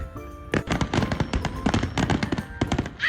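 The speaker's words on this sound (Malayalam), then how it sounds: "നല്ല ഭംഗിയുള്ളൊരു ഫയർ വർക്ക്" Fireworks burst over a car park, a rapid barrage of loud cracks and pops overlapping densely for several seconds with crackling tails, close and continuous.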